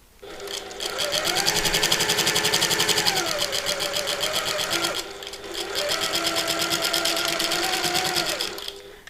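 A sewing machine stitches along the top edge of fabric at normal stitch length, running in two long steady bursts of rapid close mechanical chatter separated by a short pause.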